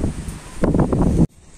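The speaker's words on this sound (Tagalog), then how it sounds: "Malakas pa din yung hangin." Strong wind after a typhoon roars and buffets against the microphone in gusty bursts, close and loud, with rustling debris, before cutting off abruptly near the end.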